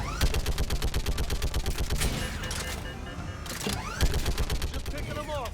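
Automated turret firing in Mass Effect 3 Legendary Edition: a loud, rapid stream of sharp shots that briefly eases off mid-way, then resumes with a heavy burst amid whooshing sci-fi effects.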